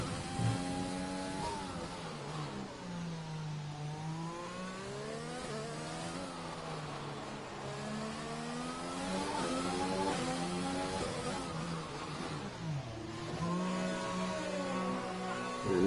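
A race car engine in a racing video game revs and shifts repeatedly, pitch climbing and falling in steady sweeps as it pushes hard through the lap, loud and close with no talking.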